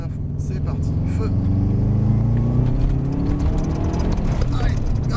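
A Subaru Impreza rally car accelerates hard at full throttle on a circuit at Pôle Mécanique Alès, a loud continuous engine roar heard from inside, with people talking over it.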